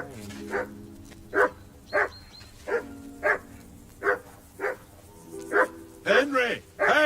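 Dog barking in the medieval role-playing game Kingdom Come Deliverance 2, sharp, evenly spaced barks about every second and a half, ending in a quick flurry of yips with a whine, while someone talks over it.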